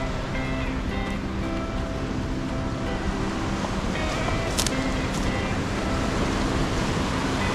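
Ocean waves wash over a black sand beach in Hilo, Hawaii, a steady broad roar of surf heard up close with wind buffeting the microphone.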